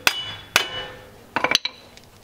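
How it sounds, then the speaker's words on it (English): Metal hammer blows on the axle of a 2006-2013 Chevy Impala to free it from the wheel hub, two loud ringing strikes followed by a rapid cluster of sharper hits, close and unaccompanied. "I'm going to use a hammer to break the axle free in here."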